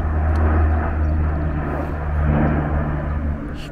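A propeller airplane circling overhead drones steadily as a loud, low rumble that swells and eases slightly, with no talking.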